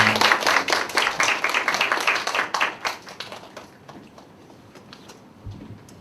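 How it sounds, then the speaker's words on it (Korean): A church congregation at a college-group Sunday service claps to welcome the preacher, brisk close applause for about three seconds that thins into scattered claps before a voice begins. "우리 나오실 때 박수로 한번 크게 환영해 드리겠습니다"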